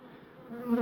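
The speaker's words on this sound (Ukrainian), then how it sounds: "Ось так зараз бджолами наповнений вулик" Honey bees buzz thickly inside a crowded hive, a close, continuous hum that swells louder toward the end.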